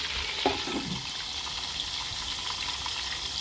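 Marinated pork dropped into very hot, bubbling oil sizzles steadily in a covered pan, a close, even hiss with a brief splash as the meat goes in.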